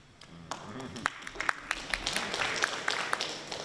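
Applause at a town meeting, scattered hand claps building into a fuller round of clapping from a small audience in a hall, close and fairly loud, with a faint murmur underneath.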